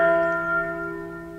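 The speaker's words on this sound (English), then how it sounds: "But then the bells ring." A synthesizer patch of ringing bells sounds one clear, bright chime that slowly fades into a sustained tone.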